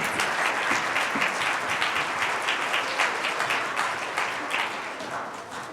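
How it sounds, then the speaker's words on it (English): Sustained audience applause at a school concert and budget presentation for 3rd and 4th grade performers, a dense steady wash of many clapping hands that fades slightly toward the end. "Another round of applause for our 3rd and 4th graders."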